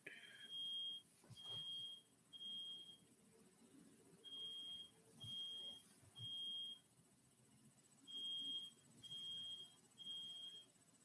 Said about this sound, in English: I don't know if you heard that beeping.